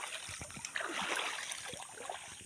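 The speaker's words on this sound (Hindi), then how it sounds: "ये देखु झरणा" Water from a forest waterfall rushes and splashes continuously, a dense steady outdoor wash with no pauses.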